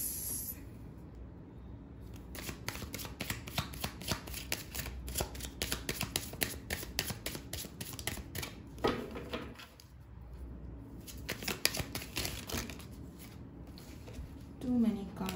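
Tarot cards are shuffled in rapid, crisp riffling bursts close to the microphone, broken by short pauses, with someone speaking softly at moments between the shuffles.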